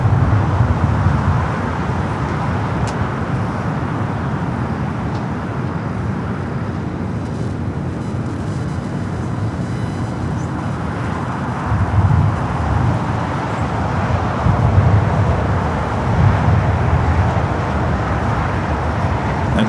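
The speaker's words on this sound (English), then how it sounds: "Copa Airlines flight coming from Panama City, a 737 MAX 9 touching down here on the south side" A Copa Airlines Boeing 737 MAX 9 from Panama City touches down on the south side at LAX, a loud, steady broadband jet roar with low rumbling swells throughout, no talk.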